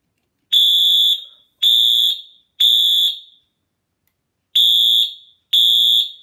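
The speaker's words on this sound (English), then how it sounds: "the horn has a much shriller piezo that really gets your attention, and seriously, this shakes your ears" Bosch DAS24VARC fire alarm horn with a shrill piezo sounding five loud, piercing tonal blasts of about half a second each, with a longer gap between the third and fourth, close and alone.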